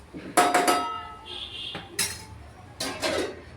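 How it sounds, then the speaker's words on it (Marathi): A metal lid clanks onto a pan of bitter gourd curry, with a few close clinks and a short ringing scrape of metal on metal, spaced across a few seconds. "तोपर्यंत थोड्या वेळेला झाकण घालून ठेवते."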